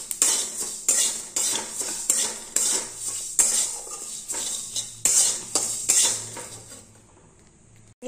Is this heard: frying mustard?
yes